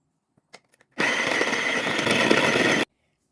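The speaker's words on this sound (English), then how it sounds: "I'm going to process it with this little chopper." A small electric chopper whirs through peeled garlic cloves in one continuous buzzing burst of just under two seconds, preceded by a few faint clicks and handling taps.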